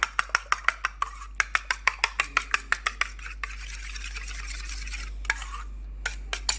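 An egg beaten in a bowl, a rapid run of sharp utensil clicks against the side in a steady rhythm that slows and thins out later, with faint background hum and no talk.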